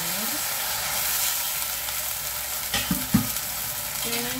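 Winter melon and fish balls cook in a wok, a steady bubbling sizzle close up, broken by a few sharp metallic clinks and scrapes of stirring near the end.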